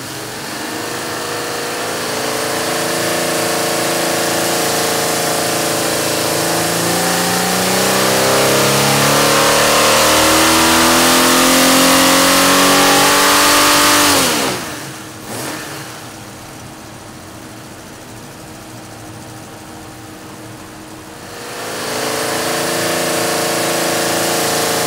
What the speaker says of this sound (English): Here's pull number one with our baseline Tuppy head